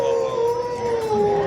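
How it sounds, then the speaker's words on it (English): Wolves howling at a county fair wolf show, two sustained overlapping tonal howls that slowly fall in pitch, loud and near, over a soft background murmur. "dogs howling."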